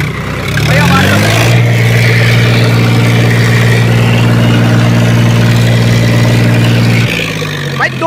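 An Eicher 551 tractor engine revs up from idle to a loud, steady full-RPM drone. The hum holds high for several seconds, then drops off near the end. It is heard close.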